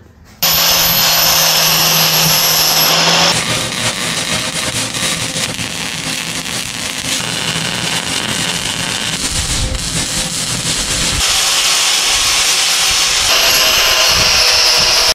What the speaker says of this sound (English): I think I'm just gonna grind the paint off here and just weld it in right there.